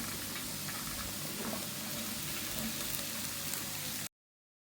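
Long beans and green chilies frying in a pan for a Kerala-style stir-fry, a steady broadband sizzle and crackle that holds evenly for about four seconds before cutting off.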